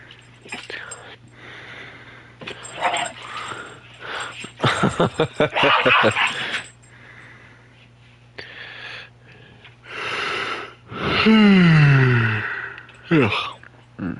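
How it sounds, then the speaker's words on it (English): Dogs play fighting up close give off scattered snorts, huffs, wheezy breaths and a quick run of rapid grunts, then a rising and falling whine, all broken by short pauses. "I'm just watching my dog's play fight"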